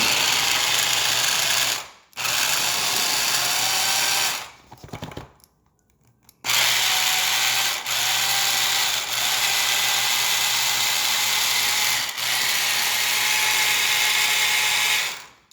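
Handheld blender whirring loudly and steadily close by while blending a Korean bulgogi marinade, cutting out briefly twice before running on again.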